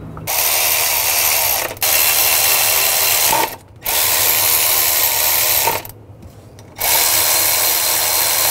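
Ratchet wrench tightening the water pump pulley bolts on a 2015-2020 Ford F-150 V6, heard as three close, loud bursts of rapid clicking with brief pauses between them and no talk.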